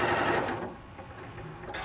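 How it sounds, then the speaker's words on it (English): A Janome Continental M6 sewing machine stitches in a brief steady whirring run that fades slightly as it slows, close and alone without talk. "So now if we stitch a little bit, that foot, and when we stop, that foot comes up automatically."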